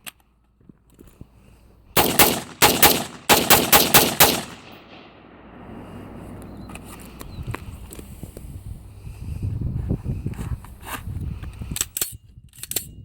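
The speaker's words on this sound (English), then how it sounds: "Shoot the rest of those out real quick." A Radical Firearms AR rifle with an adjustable gas block and nickel boron bolt carrier group fires a quick burst of sharp, loud shots during a torture test, followed by softer handling noise and shuffling.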